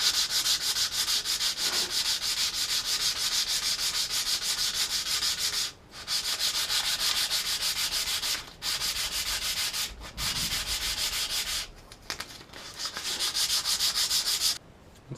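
A wooden stove handle is hand-sanded with 180 grit sandpaper, a close, continuous rasping scrub broken by a few brief pauses, with no talking.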